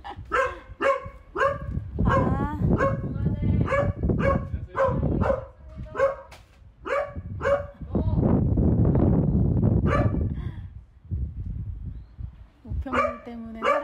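A dog at a house barks repeatedly in quick bursts as a mail carrier arrives, loud and close, with a stretch of background noise and a few yips between volleys.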